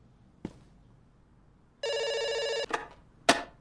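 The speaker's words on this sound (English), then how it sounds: "It's ringing. Don't worry." A telephone in the video game Dr. Langeskov rings once in a bright, steady electronic trill lasting under a second, set between a few sharp clicks and knocks in an otherwise quiet scene.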